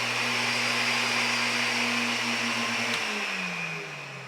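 A home-garage car paint spraying unit with variable speed switches on, its steady motor whine and airy hiss running loud and continuous before the pitch shifts and the level eases slightly near the end.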